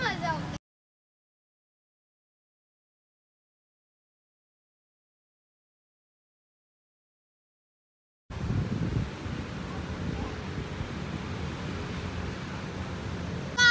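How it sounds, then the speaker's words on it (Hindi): Steady wind blows outdoors on a cloudy day in a park-like setting in Bahawalpur, a broad rushing wash that starts abruptly after a long silent gap and continues evenly to the end, with a brief burst at the very start. "बस हवा चल रही है"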